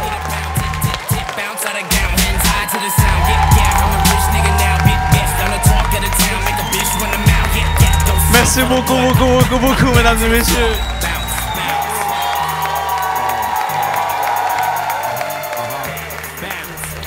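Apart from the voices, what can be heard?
audience applause and cheering at a comedy show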